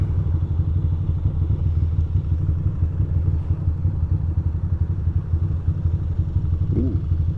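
Motorcycle lane splitting through city traffic between Red Hook and Williamsburg on a warm day, its engine a steady, loud low rumble throughout with light clatter and a brief higher squeal near the end.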